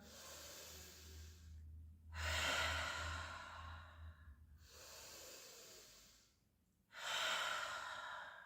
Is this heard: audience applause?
no